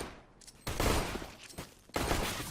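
Bursts of rifle gunfire from a Counter-Strike match between SK and Na'Vi, with loud volleys breaking out, pausing, then resuming in rapid fusillades.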